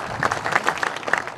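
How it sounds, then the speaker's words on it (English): Audience applause at the opening of a union training center, a short burst of dense clapping with no voices over it. "I would like to give Larry a round of applause and say thank you for doing all your hard work for this."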